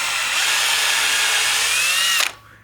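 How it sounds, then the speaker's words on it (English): A power drill bores a hole in a wooden workpiece held on a woodturning lathe. It makes a loud, steady whine for about two seconds, then stops abruptly and winds down. No talk is heard. "So when I drill this, I want to make sure I don't go too deep"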